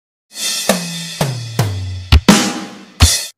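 Drum kit plays a short pattern from a song with no backing music: a run of close tom hits stepping down in pitch, then kick thumps with snare and cymbal accents, loud and alone.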